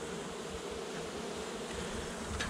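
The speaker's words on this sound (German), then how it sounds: "Das Bienenvolk will euch ja jetzt gar nicht angreifen." A honey bee colony buzzes during a spring hive inspection, a steady, moderately faint drone of many bees with no voices.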